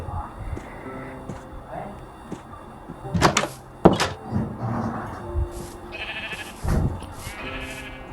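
Sheep bleating in Minecraft, a few short blocky bleats that rise over steady game sounds, with a thud or two and a Thai-speaking player talking throughout.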